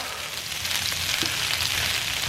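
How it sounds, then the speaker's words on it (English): An onion and potato mixture, pressed flat in a pan, sears with a steady, moderate crackling hiss and no talking over it. "Press it down and make sure you're getting a good sear all around the pan."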